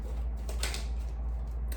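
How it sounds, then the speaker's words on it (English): A few quick riffling shuffles of a tarot deck, soft papery bursts that come close together over a low steady hum. "Let me do a quick shuffle and get some clarifiers for you."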